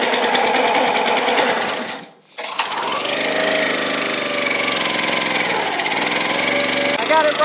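The small engine of a Tractor Supply wood splitter runs on full choke with a loud, fast, rattling putter. It dips briefly to near silence, then picks back up and runs steadily to the end.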